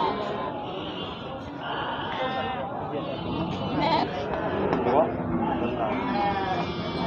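Sheep bleat repeatedly amid a busy crowd at the Argopeni animal market in Kebumen, with people talking nearby throughout and several close, wavering calls standing out over the chatter.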